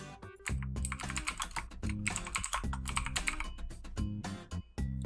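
Rapid keystrokes on a computer keyboard as a diagnostic note is entered, a steady run of close, crisp clicks with short pauses between bursts.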